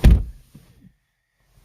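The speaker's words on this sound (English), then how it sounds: "Let me just shut the door." A 2022 BMW M240i xDrive Coupe door slams shut with a solid thunk up close, followed by a few faint rattles and then quiet.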